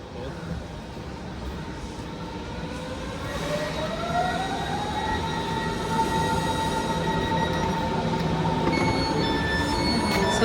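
A train runs at a station in Germany, its rumble building steadily over about ten seconds, with rising and falling tonal whine and a faint squeal of wheels close by.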